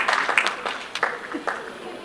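Audience clapping at an awards ceremony for a public financial management league table, a few scattered, fairly faint claps with a voice speaking over them.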